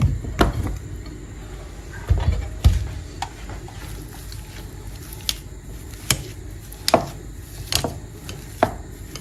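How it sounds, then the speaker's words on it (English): Potatoes being mashed for chicken potato croquettes, a series of soft, squishy thumps and presses repeating at an uneven pace, close and moderately loud, with no talking. "We'll start with the mashing of our potatoes."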